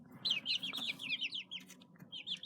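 Two black backyard chickens make short, high, chirping cluck-like calls in quick wavering runs, close and fairly soft, with a low rumble underneath.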